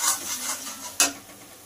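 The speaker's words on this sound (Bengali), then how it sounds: "তো সবটা দিয়ে এবার ভালো করে এটাকে কষাতে হবে" A ground spice paste is stirred and sautéed in a pan with hissy, scraping spatula strokes. A sharper scrape near the end stands out over a faint sizzle.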